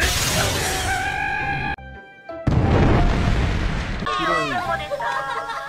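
A loud blast bursts out in an anime fight as an enemy is thrown and explodes in the sky, amid dense, noisy action sounds and shouting voices, followed by a brief lull and more chaotic rumbling and squeals.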